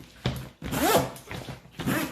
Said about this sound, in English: Zipper's a bit tough, but that's alright.